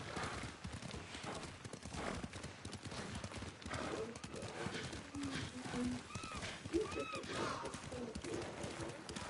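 Rhythmic hooves clip-clop steadily on hard ground, with a brief whinny and faint chirps in the Ghost of Tsushima game soundscape.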